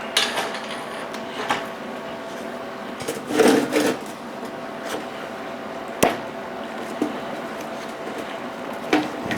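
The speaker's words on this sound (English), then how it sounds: "this section right here is going to take a little bit of work with that TIG welder" A steady TIG welding hum runs throughout as filler rod is pushed into a gap, with faint crackle and a few clicks and taps over a constant hiss, fairly quiet and close.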